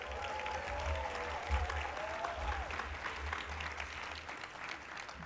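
Applause for Tacoma Musical Playhouse at the 38th Annual City of Destiny Awards, a sustained crowd clapping heard somewhat distantly with low rumble beneath and faint whooping voices mixed in.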